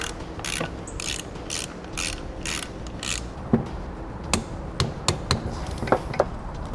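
Ratchet wrench tightening and torquing the bolt on an Air Lift LoadLifter 7500 XL air helper spring on a 2017 Chevrolet, a run of rapid ratcheting bursts followed by several louder, separate clicks and knocks, close and clear.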